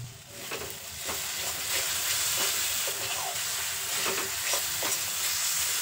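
Spice masala with Kashmiri chilli powder and salt fries in a pan for a jackfruit kofta curry, giving a continuous close sizzle broken by repeated scraping stirs of the spoon.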